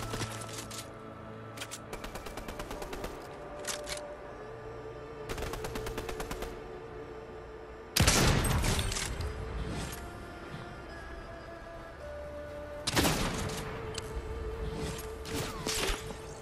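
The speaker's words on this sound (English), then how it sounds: "Someone's shooting" Rapid automatic gunfire in a Fortnite duos battle royale, several long buzzing bursts and heavy blasts separated by pauses, loud and close, no talk.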